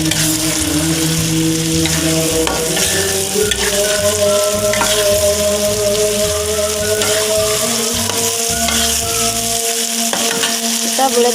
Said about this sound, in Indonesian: Setelah harum kita boleh masukkan daging ya sobat.